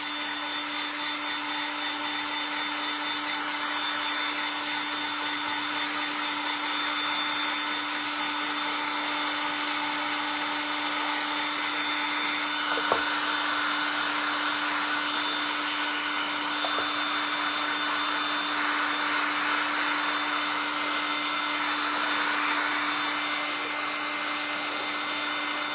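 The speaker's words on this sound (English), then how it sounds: "Now what I'm going to do is I'm going to hit this with a dryer." Hair dryer blowing steady heat onto plastic for a dollar-store snowman craft, a continuous close whirring hum with a constant motor tone, unbroken for about twenty-five seconds, with no talking.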